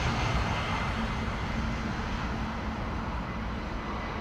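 Airbus A330neo airliner at London Heathrow Airport, heard as a steady, dense jet engine roar that stays loud throughout with no talking.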